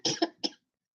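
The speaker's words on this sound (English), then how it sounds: "I just still have a cough." A person still recovering from COVID coughs three times in quick succession, a close, dry, loud burst of coughs followed by silence.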